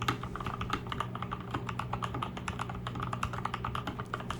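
A custom mechanical keyboard with lubed switches being typed on, a quick, even run of soft, clean keystrokes close up with a low hum underneath and no talking.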